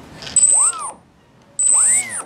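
The ESC on a Volantex Ranger RC plane gives two short electronic bursts, each a thin high beep with a whirring tone that rises and falls beneath it, close and clear, separated by a brief silence.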